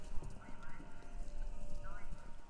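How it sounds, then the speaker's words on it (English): Horse hooves clip-clop along a road in the video game Kentucky Route Zero, a steady close rhythm of hoofbeats over a low hum, with a faint voice underneath. "Horses!"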